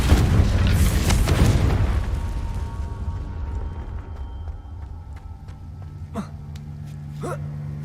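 A Confringo fire spell in Hogwarts Legacy bursts as a loud, booming explosion up front, its rumble trailing off over several seconds, followed by a few quieter magical whooshes and chirps.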